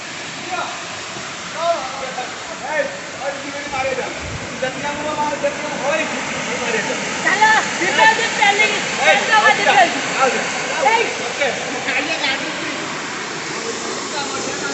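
Water pours without a break from a waterfall at a temple, a loud, even rushing heard close by, while people talk on and off above it.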